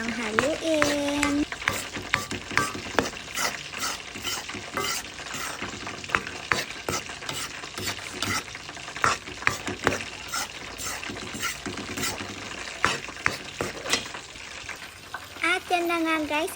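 Flour toasting to golden brown in a pan for polvoron, stirred continuously with repeated scraping strokes over a soft dry sizzle; steady and close, alone without talk.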